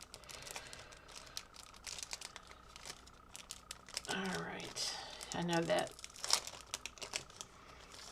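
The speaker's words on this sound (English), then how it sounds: "tissue paper is so noisy" Crisp crinkling and rustling of tissue paper in bursts, close by, with brief quiet speech at the start.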